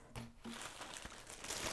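Plastic bag of pills crinkling and rustling close up, in irregular crackling bursts throughout, fairly quiet, packed as a bikepacking self-care item for a mountain race.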